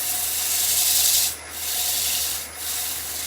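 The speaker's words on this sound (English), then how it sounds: "I'm going to raise the speed a little bit, force this drying by getting some burnishing going" A wooden platter spins on a lathe while being burnished, giving a steady, loud rubbing hiss that briefly drops twice as the pressure lifts, with no talking.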